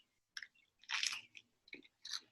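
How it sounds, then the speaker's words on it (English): Bites into a crunchy battered onion ring give several close, sharp crunches followed by softer chewing crackles, fairly quiet and with no talk over them. "I hear the crunch."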